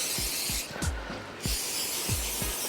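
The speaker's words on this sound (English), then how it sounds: "We will take 0-calorie butter spray and just spray them out." Zero-calorie butter spray spritzed over oven-baked tandoori chicken wings in several short, quick bursts of soft hiss, close up and fairly quiet, with no talking.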